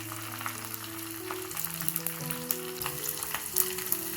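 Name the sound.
tempering of mustard seeds, garlic, red chilies, curry leaves frying in oil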